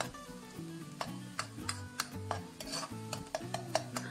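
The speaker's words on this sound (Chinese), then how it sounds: "锅中放入适量的植物油，下入2/3的蒜末，保持中小火炒香" Minced garlic stir-frying in vegetable oil over medium-low heat, a soft sizzle under rhythmic spatula scrapes against the wok, close and fairly quiet, no voices.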